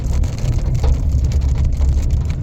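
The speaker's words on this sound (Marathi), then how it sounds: "खूप जोरात पाऊस आलाय." Heavy rain drums on a car driving along a road through forest, a dense loud roar with low engine and road rumble underneath and faint scattered drop taps, no speech.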